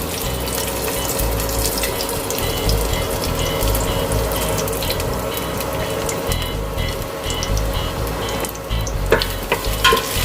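Garlic frying in a pan for pork afritada, a continuous close sizzle with stirring clinks and a brief splash of water near the end.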